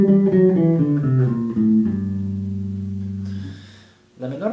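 Bass guitar notes run stepwise through the melodic minor scale, up and then back down, each tone clean and sustained, with the last note ringing out before a voice starts talking.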